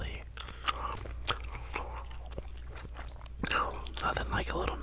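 Bubble gum chewed close to the mic in an ASMR setting, with soft wet smacks and crunchy chews repeating irregularly, a few sharper pops, and quiet whispering woven through, over a low steady background hum.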